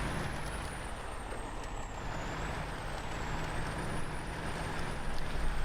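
A truck engine rumbles with air brakes hissing in the SnowRunner video game, a continuous mechanical drone joined by a thin, wavering high whine, steady and moderately loud without speech.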